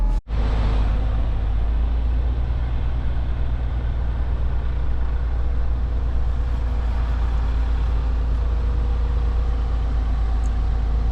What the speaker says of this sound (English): we just give it a couple of seconds for the turbo